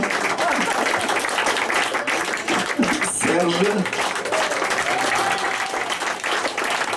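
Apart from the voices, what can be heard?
audience applauding performers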